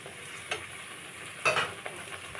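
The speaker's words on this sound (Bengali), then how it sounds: "তেলটা গরম হয়ে গেছে এখন পেঁয়াজ বাটাটা দিয়ে দেবো রসুন বাটাটা দিয়ে দেবো" Onion and garlic paste frying in hot oil for a methi chicken curry, a steady close sizzle with a few sharper spits and stirring scrapes, no voices.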